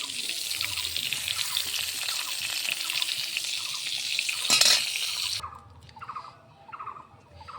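Pieces of pointed gourd fry in oil in a karahi with a steady, close, loud hiss, punctuated by a brief clatter near the end before the sizzle drops to a softer level.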